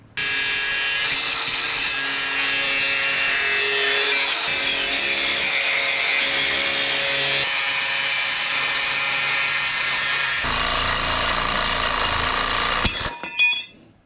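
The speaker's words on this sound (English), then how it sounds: "We're gonna cut this bracket off" A power tool grinds steadily through a metal motor mount bracket on a mini sport quad being fitted with a 212cc Predator engine, loud and continuous for about thirteen seconds before cutting off abruptly near the end.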